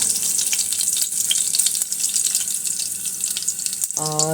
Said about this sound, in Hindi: यहाँ पे मैंने घी डाल दिया है पैन में। अब इसमें जाएगा जीरा